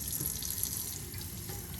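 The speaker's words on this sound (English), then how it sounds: "I'm going to go ahead and wash my hands." Running water pours steadily from a sink tap as hands are washed beneath it, a close, continuous splashing hiss.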